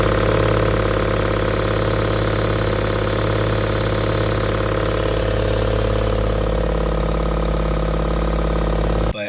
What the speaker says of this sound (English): Literally all you can hear is just the injectors pulsing, so it sounds really good.